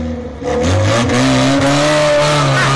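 Car tires squealing as an engine revs hard and accelerates, a loud continuous screech over a rising motor drone lasting several seconds, close and intense.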